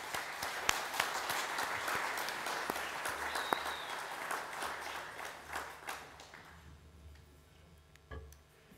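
An audience at the 2012 National Disability awards applauds to welcome Senator Jan McLucas to the stage, warm sustained clapping that thins into scattered claps and fades out after about six seconds.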